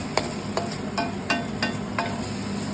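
Fish stir-fried with ginger in a pan, soy sauce and sugar mixture added, giving a steady close sizzle with several brief scraping stirs of a utensil at regular intervals.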